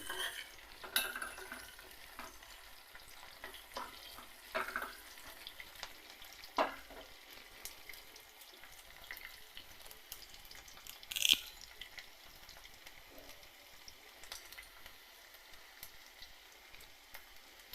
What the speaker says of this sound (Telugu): పోపు అనేది బాగా వేగాలి